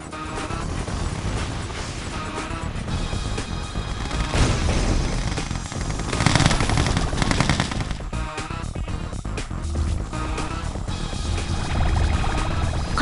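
Dense, continuous gunfire in Yuri's Revenge, with rapid automatic bursts and occasional heavier blasts, loud and sustained throughout without pause.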